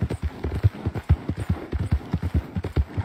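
Hooves of a horse clip-clop in a hunting video game, a quick, regular rhythm of soft thuds at moderate volume, close by, with no talk over them.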